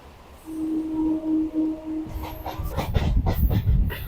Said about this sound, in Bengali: এই যে মেট্রো ঢুকছে